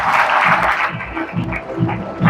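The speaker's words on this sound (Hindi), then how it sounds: "एक बार सब अपने लिए ताली बजा दीजिए" An audience claps steadily throughout at a training seminar, a dense continuous applause filling the room with some murmuring mixed in.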